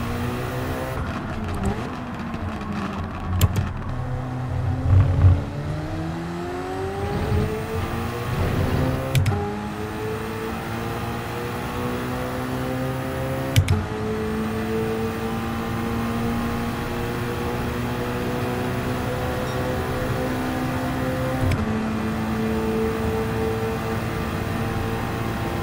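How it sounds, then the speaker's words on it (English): Race car engine in Gran Turismo 7 revving and climbing through gears, with rising harmonic sweeps, sharp shift breaks and a steady loud drone throughout. "Car sounds"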